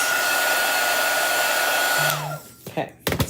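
A hair dryer blows steadily at close range, drying chalk paste on an Easter craft project, then cuts off near the end, followed by a few brief handling clatters.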